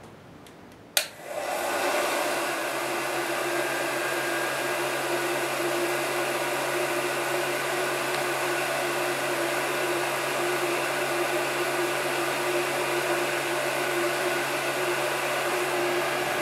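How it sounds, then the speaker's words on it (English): A heat gun switches on with a sharp click and then roars in a steady, loud, unbroken blowing hum while acrylic is heat-bent for jewelry. "turn on the heat gun, and we'll get started"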